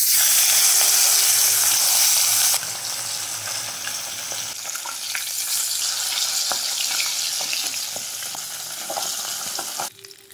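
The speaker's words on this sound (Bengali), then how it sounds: "মাছের মাথাটা ভেজে নেব।" A fish head coated in salt and turmeric fries in hot oil, a strong continuous sizzle that is loudest at first, then settles to a steady crackle with small pops before cutting off.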